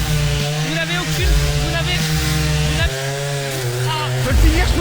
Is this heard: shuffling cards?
no